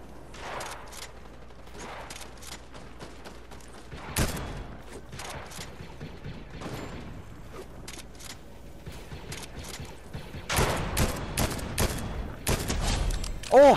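Blaster rifles fire in a video game, with rapid bursts of sharp shots and volleys, dense and loud toward the end, and a voice talking faintly underneath.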